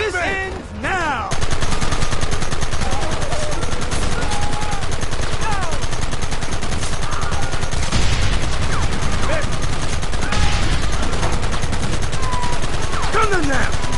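Sustained gunfire from a Red Dead Redemption battle, rapid shots and bursts layered densely over fourteen seconds with shouted voices in the mix, loud and near throughout after a brief quieter opening.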